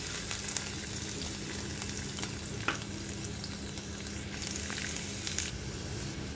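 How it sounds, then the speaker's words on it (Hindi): Garlic and dried red chillies sizzle in hot mustard oil for an achaari dal tempering, a steady dense crackling fry with occasional pops and stirring, close and continuous. "लाल मिर्च हो गई, इसके अंदर डाल रहे हैं लहसुन।"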